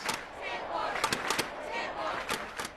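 A massive protest crowd fills the streets outside Hong Kong's Legislative Council, a steady roar of many voices with sharp shouts and bursts of cheering rising out of it at mid-distance.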